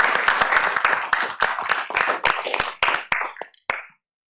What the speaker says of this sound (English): Another round of applause for all of our speakers